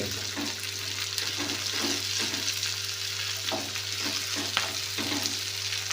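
Steady sizzle of frying in a pan while cooking a tomato cauliflower curry, with a continuous hiss and occasional soft stirring clinks, no talking.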